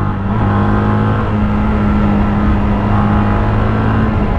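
A Mash TT40 400cc single-cylinder motorcycle engine of 27 horsepower drones on steadily and loudly throughout while being ridden, with a continuous buzzy hum and slight rises in pitch, and no voices over it.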